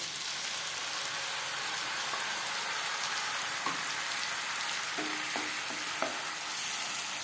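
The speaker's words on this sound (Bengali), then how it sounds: "কাঁচা গন্ধ যাওয়া পর্যন্ত নাড়াচাড়া করে নেব" Ginger paste, green chili paste and tomato paste fry in oil while being stirred, a constant close sizzle with a few soft spatula scrapes and taps near the end, no voices.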